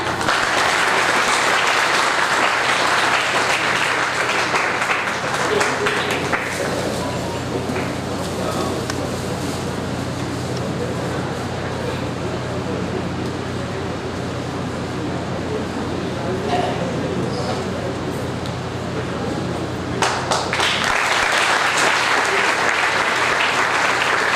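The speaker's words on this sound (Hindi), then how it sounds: "जोरदार तालियां" Sustained audience applause fills a university mathematics conference hall, loud at first, easing to a steadier patter in the middle, then swelling again near the end, with faint voices mixed in.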